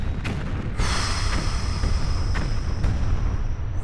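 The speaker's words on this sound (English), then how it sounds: "can we start firing at the ship?" Weapons fire at a ship in the space game Battlevoid: Harbinger, heavy booming shots over a steady roar and a high whine, a few sharp bursts standing out, with no talk.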